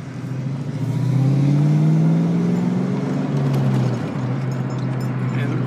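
A 1990 Mustang LX 5.0 V8 revs and pulls away close by, a deep rising growl that holds steady, then settles into a lower rumble.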